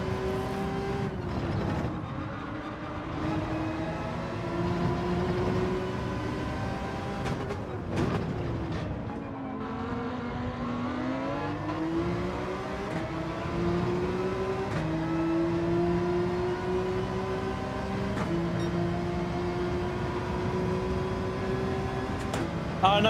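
Porsche engine in the Gran Turismo 7 racing game, revving continuously and shifting through gears with rising and falling pitch over a steady background throughout.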